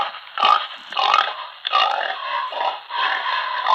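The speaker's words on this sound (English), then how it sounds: "Yes, it's a pig. Of course, it's a pig." Recorded farm pig grunts played for an animal-guessing game, a run of close, loud, rough snorting grunts in irregular bursts with no voices.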